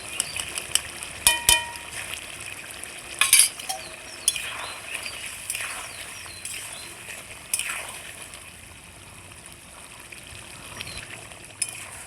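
A cauliflower and potato curry sizzles softly in ghee with garam masala, with clinks of a spoon against the pot early on and a gentle, steady frying hiss afterward.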